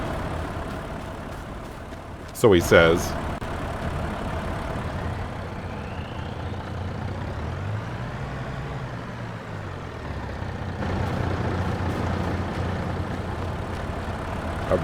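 A truck in Farming Simulator 22 moving forward, a steady low engine drone with a short burst of clanking near the start, then a brief rising and falling pitch as it drives, and a few words spoken early on.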